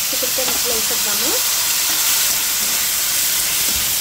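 Boiled broad bean pieces dropped into a hot pan sizzle with a steady, loud frying hiss throughout, while someone speaks briefly over it at the start.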